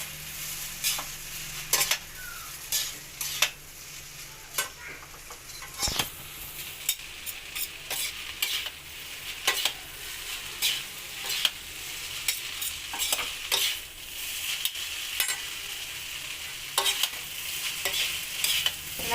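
Homemade street-style noodles being stir-fried and roasted in a pan: steady sizzling broken by frequent sharp scraping and clacking strokes of a spatula, close and fairly loud, with no talking.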